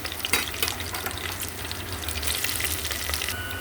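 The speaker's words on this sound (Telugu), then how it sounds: "ఇప్పుడు ఉల్లిపాయలు వేస్తున్నాను." Sliced onions frying in hot oil in a pan for mutton biryani, with a steady close sizzle and crackle and a few sharper pops, and no talking.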